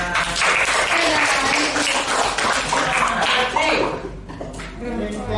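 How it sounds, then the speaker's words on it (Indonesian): A class of seventh-grade students applauds in a school classroom. Dense clapping rings out loudly, thins briefly near the end, then picks up again, with children's voices mixed in. "Oke, tepuk tangan"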